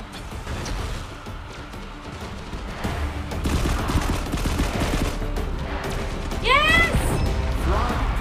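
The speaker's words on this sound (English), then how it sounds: "people are already shooting at me" Gunfire in the online shooter Frang crackles in dense bursts through a busy in-game mix, loud and near, with a rising whoosh or whistle near the end.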